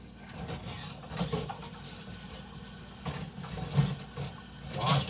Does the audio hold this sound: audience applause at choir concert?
no